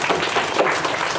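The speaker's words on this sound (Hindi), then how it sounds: "चलिए जोरदार ताली हमारे अभिषेक के लिए।" Applause for a top-scoring student at a school event, a short, steady burst of clapping from an audience, fairly loud and dense throughout.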